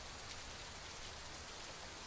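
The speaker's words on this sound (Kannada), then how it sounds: "ಅಲ್ಲಲ್ಲಿ ಜಿಟಿ ಜಿಟಿ ಮಳೆಯಾಗಿದೆ" Light drizzling rain falling in Bengaluru, a steady soft patter of fine drops on surfaces, even and unbroken with no voices.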